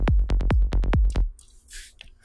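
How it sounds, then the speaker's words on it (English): Psytrance kick drum and bass from a simple Ableton Live template: about seven punchy, booming kicks in a steady fast pulse with rolling low bass, stopping abruptly and followed by faint clicks and noise. "We have a kick and a bass."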